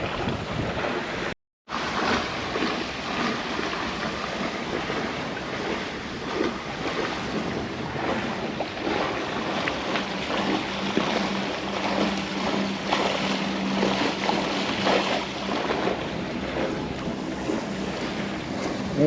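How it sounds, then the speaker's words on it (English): A sailboat runs under full sail at about six knots on the open ocean, with steady wind buffeting the microphone over rushing water and waves along the hull, continuous and fairly loud with no talk. "We are doing just about 6 knots, under full sail, and what a day."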